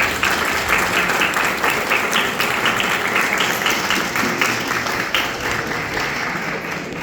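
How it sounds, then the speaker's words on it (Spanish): Loud, sustained applause from a school debate audience, many hands clapping in a dense, even roar that carries on without pause and tapers only slightly toward the end. "Aplausos, por favor."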